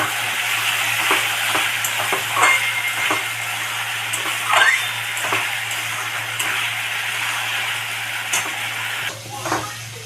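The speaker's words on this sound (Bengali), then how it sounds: "মশলা কষানো হয়ে গেছে" Ground spices with Kashmiri chili powder sautéed in a pan for a light rohu fish curry. A steady close sizzle runs throughout, broken by repeated stirring scrapes over a low constant hum.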